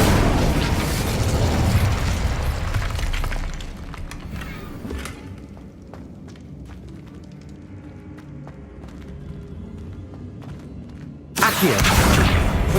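A fiery Incendio spell cast in Hogwarts Legacy bursts with a loud, roaring blast that fills the first few seconds, decays into a low rumbling tail, then a second abrupt loud burst erupts near the end.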